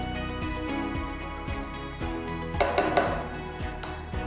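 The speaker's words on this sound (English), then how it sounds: "Mix everything together." Mutton rogan josh is stirred with added stock in a pot, giving steady scraping and soft clanks of a spoon against the metal, with a louder sloshing stir near the end.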